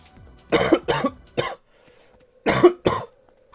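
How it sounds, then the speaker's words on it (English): Two bursts of harsh, close coughing, a cluster of three coughs followed by a pause and two more, with a faint hum between them. "this cough is still kicking my butt"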